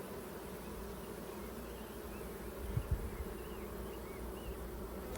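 Honey bees buzz steadily at an open hive during an inspection, a dense, continuous drone close by with a few brief louder passes, and no talking.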